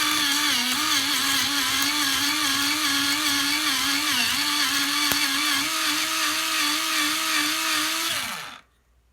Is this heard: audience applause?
no